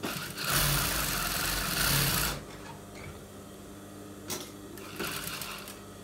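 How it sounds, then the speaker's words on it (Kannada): Close up, a sewing machine stitches a bra, whirring loudly for about two seconds before dropping to a quieter ticking hum. A few short bursts of machine noise follow near the end. "ಇಲ್ಲಿ ಒಂದು ಸ್ಟಿಚ್ ಬಿಟ್ಕೊಳ್ಳೋಣ"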